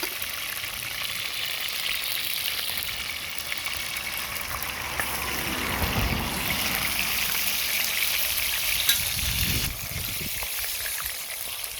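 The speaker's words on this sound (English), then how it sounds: "And some of them fry my fish," Fish fries in a pot over an outdoor fire, Jamaican style, with pepper among the ingredients. A steady, loud hiss and sizzle runs throughout, with a few brief crackles.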